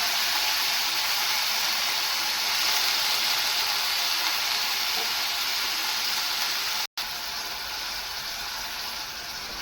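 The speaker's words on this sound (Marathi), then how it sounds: "याच वेळी आपल्याला धुवून घेतलेली मेथीची भाजी तेलामध्ये घालायची आहे." Washed fenugreek leaves fry in hot oil with garlic in a pan, giving a loud, steady sizzling hiss that runs unbroken except for one momentary drop.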